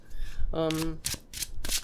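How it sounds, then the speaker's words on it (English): Rapid riffling tarot card reverse shuffles in two or three short bursts, close up, with a brief voice-like tone in the middle. "Let me just reverse shuffle it one more time."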